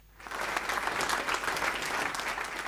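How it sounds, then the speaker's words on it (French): Thunderous applause fills a multipurpose hall as a presidential couple enters, a dense, steady wash of many hands clapping that starts abruptly and continues without letup. "C'est un tonnerre d'applaudissements qu'a reçu le couple présidentiel samedi lors de son entrée dans cette salle polyvalente"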